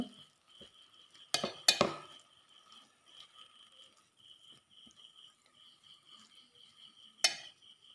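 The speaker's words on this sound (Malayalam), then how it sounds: "നല്ലപോലെ ഇളക്കി യോജിപ്പിച്ച് കൊടുക്കുക" A spoon stirs and mixes samosa filling in a pan, with a few sharp metallic clinks against the pan over a faint steady sizzle, quiet and close.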